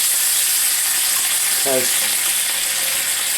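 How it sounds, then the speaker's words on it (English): Streak o' lean pork fries in a cast iron pan with a loud, constant, close sizzle, while a voice speaks briefly over it. "this is some very nice lean streak lean, and I'm moving it around in the pan"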